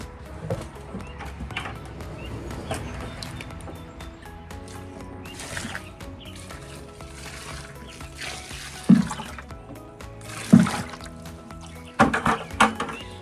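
Water is poured into a 25-30 gallon mineral bucket of chopped potting mix for self-irrigating pots, giving a steady close splashing wash with a few sharper sloshes toward the end.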